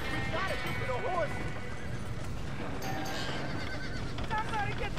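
Horses neigh and whinny repeatedly in the Red Dead Redemption video game, with clip-clopping hooves throughout, amid a busy, noisy scene with people talking over the commotion.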